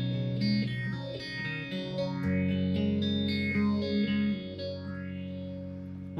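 A guitar runs through a TC Electronic Blood Moon phaser pedal with the feedback turned high. Swirling, sweeping chordal tones ring out continuously, and nobody talks.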